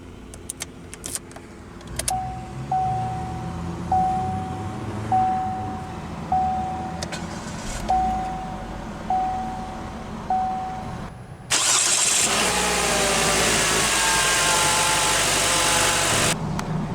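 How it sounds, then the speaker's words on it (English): A 2020 Chevrolet Spark LS, a small city car, goes through several repeated ignition chimes and clicks from inside, then the engine cranks and starts, settling into a loud, steady idle for the final few seconds. "let's go ahead and start the engine."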